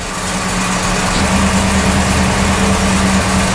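A car engine idling steadily while a Holley EFI system is tuned with the idle air control at zero, a loud, even rumble with a constant low hum and no speech.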